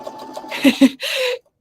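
A sewing machine stitches a quilt top into a pillow in a few short, mid-loud bursts of motor whir, with brief pauses between runs.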